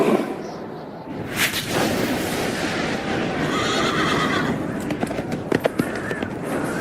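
A horse whinnies loudly over a dense rumbling background, followed by scattered sharp cracks and hoof-like clatter toward the end.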